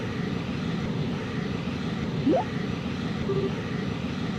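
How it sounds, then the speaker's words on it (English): Boosters activating in the video game Trails in the Sky, a steady low engine roar with a brief rising whine partway through and a short tone after it, no voices. "Coordinate adjustment complete. Activating boosters."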